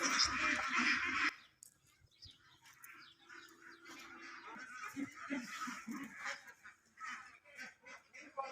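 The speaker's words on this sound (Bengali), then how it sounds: "এগুলো চিনে হাঁস" Chinese geese give a series of nasal honks at moderate distance in a rural setting, repeating irregularly after an opening burst of noise.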